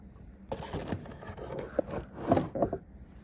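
A cardboard box holding an Ng Models 1:400 scale Delta Air Lines Airbus A350-900 in LA28 livery is pried open by its inside flap, with close scraping, rubbing and papery rustling plus a few sharp clicks.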